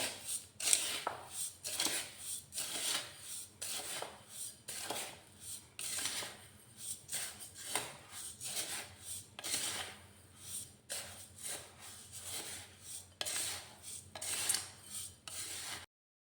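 Spices with a half spoon of asafoetida being stirred into a sweet lemon pickle mixture: steady, repeated scraping and rasping strokes, close and fairly quiet, with no talking.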